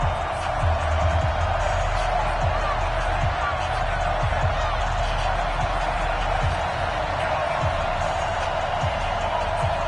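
Steady, broad crowd roar fills a stadium in an EA Sports football game as the New England Patriots and Buffalo Bills get set to play, a continuous wash of cheering with faint thumps beneath and some talk.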